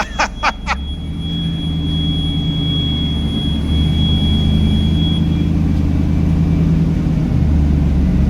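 Loud exhaust of a 1999 Trans Am, a deep, steady, close engine rumble that holds for several seconds after a few short high beeps at the start.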